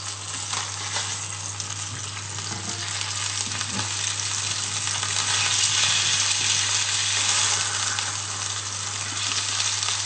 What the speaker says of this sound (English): if you've got a good pan like this, you can cook it most of the way on the skin.